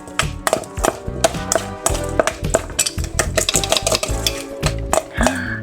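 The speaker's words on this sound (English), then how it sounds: "Okay, we're gonna stir it up." A spoon stirring food in a bowl, giving quick clinking taps and scraping in an uneven, busy rhythm, close and fairly loud with no talking.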